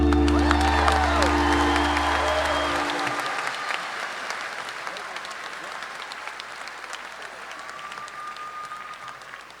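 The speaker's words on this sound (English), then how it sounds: "Can we give him another round of applause, please?" Applause from a high school graduation audience, dense and steady at first and gradually thinning and fading, with cheering and some voices in the crowd mixed in.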